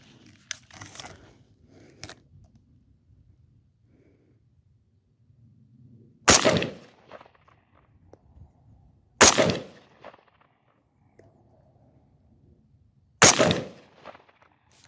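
Three SKS rifle shots fired at a can 75 yards away on an outdoor range, each a sharp, loud crack spaced a few seconds apart with quiet between them.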